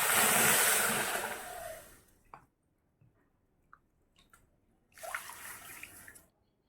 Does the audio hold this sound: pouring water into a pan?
yes